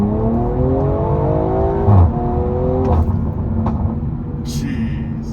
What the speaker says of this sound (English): Car's downshifting for me, and then just, popping.